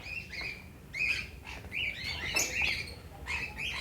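Caged birds chirp and tweet in quick, repeated high calls that overlap at moderate volume, with no talking.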